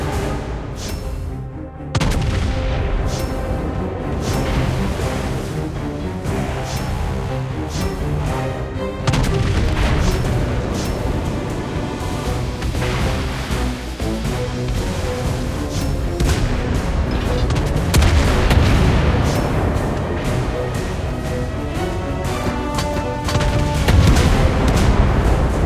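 Naval gunfire rolls through a World of Warships Blitz battle as a dense, continuous barrage of loud booms and rumbling blasts, one after another with no letup.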